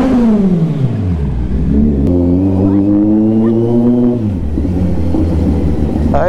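A Kawasaki Z900 superbike engine revs loud and close, its pitch dropping, then holding high before falling back to a rough idle.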